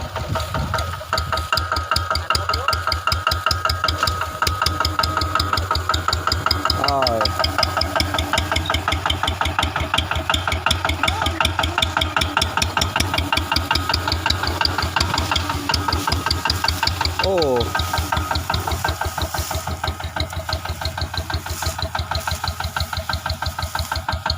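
Engine of a rice threshing machine runs steadily with a fast, even mechanical knock, loud and close throughout, with a faint squeaky tone appearing briefly twice over the drone.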